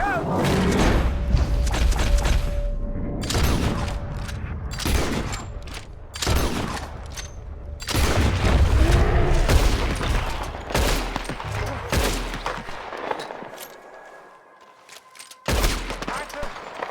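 Gunfire in Red Dead Redemption 2 during a fight with a large animal: repeated loud shots and heavy thuds in irregular bursts over a busy game mix, with a brief lull near the end before another shot.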